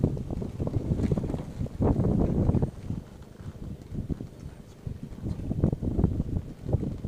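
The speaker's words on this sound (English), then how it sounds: "All a bit twisted by the wind, but we're surviving as it stands." Strong gusts buffet a marquee at a cricket match, rough wind noise battering the microphone in loud irregular surges and flaps throughout, with no voices heard.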